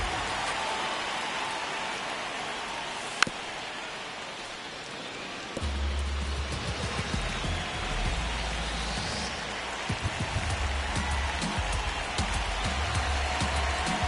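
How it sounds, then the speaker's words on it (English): Steady rain hisses over a baseball field in the MLB 26 video game, a dense continuous wash that grows fuller after a brief lull, with a sharp tick partway through and no talking. "the field's not going to be able to hold up if the rain gets any worse than this"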